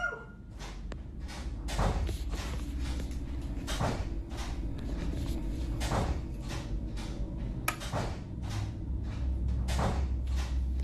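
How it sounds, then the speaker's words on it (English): A door in a basement repeatedly opening and closing, a series of dull knocks and creaks at uneven intervals, moderately distant over a steady low hum. "You can hear a door open."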